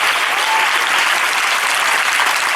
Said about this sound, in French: Je veux que tu acclames cette parole.